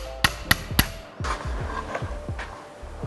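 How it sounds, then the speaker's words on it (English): A hammer strikes a punch to drive the pin out of a Buckmaster PB12 shotgun, three sharp metallic blows close up, then a quicker series of lighter taps. "Using a punch and a hammer, punch the pin through."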